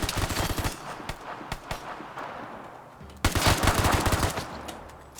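Rapid SMG bursts in a looter shooter video game set in Norway, close and loud, with a pause near the middle before a denser, sustained volley resumes.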